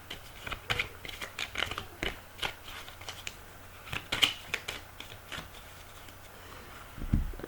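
Tarot cards are cut and shuffled by hand in a quiet room, giving a run of soft, close riffling flicks and card slaps in irregular bursts, with a sharper tap near the end.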